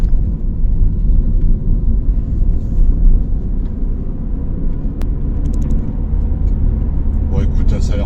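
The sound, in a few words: Toyota Land Cruiser driving on the road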